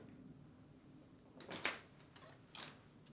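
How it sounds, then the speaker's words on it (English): A rack rolls out with a couple of short rattling scrapes and clanks, fairly quiet, against a low background hum. "Then, pull the bottom dish rack out and set it aside."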